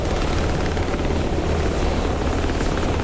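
The steady, beating thrum of a helicopter rotor and engine in the DCS flight simulator game, continuous and even throughout, with no voices.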